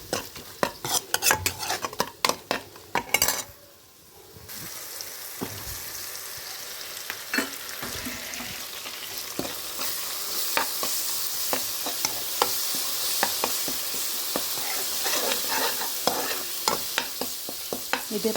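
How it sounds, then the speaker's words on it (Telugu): An egg stuffing mixture fries in a pan, first with quick clattering stirs against the metal, then a loud, steady sizzle with occasional scrapes as it cooks. "మొత్తం కలుపుకొని ఒక 2 నిమిషాలు వేగించిన తర్వాత ఎగ్ కొట్టుకోవాలి మనం దీంట్లోకి."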